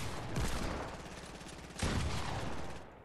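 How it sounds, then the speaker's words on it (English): Two quick bursts of rapid gunfire ring out in the Fortnite battle royale video game, fairly faint and sounding from a distance. "Hey, who's shooting me?"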